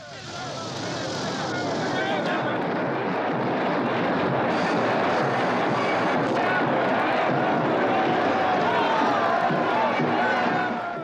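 Large crowd of spectators at a 1970 Quebec protest during the October Crisis, a dense roaring mass of voices and shouting that swells and holds steady and loud throughout, with no clear individual speech.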